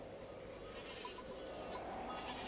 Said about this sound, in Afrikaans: Daar kom Pieter met sy bokke aan